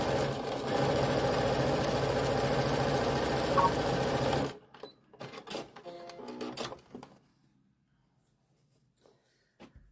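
A sewing machine stitches through quilt layers for a snowflake pillow with fuzzy appliqué, humming loudly and steadily for about four seconds, then stopping, followed by a few scattered clicks and handling noises before near silence.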